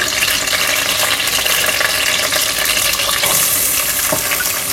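Green chilies and onions fry in hot oil for a mutton and eggplant dish, a loud, dense, continuous sizzle close up, with occasional stirring scrapes and no voices.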